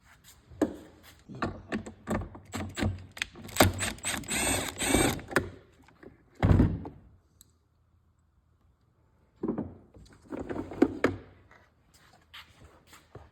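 Last screw being worked free from the AC climate control box of a 2011–2015 Ford F250, with close clicking, ratcheting and mechanical rattles in several bursts separated by quiet pauses.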